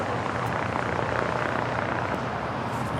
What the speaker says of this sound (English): The A320 now rolling down 25 right.